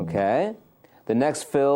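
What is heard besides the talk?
No distinct noise like a dog, phone or traffic.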